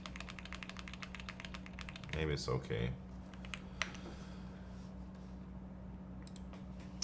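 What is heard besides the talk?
typing on a computer keyboard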